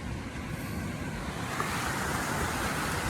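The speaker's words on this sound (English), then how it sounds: "Little itty bitty waves washing up on the beach." Tiny waves wash gently onto a beach, a soft continuous surf hiss with light wind noise, low and steady over a few seconds.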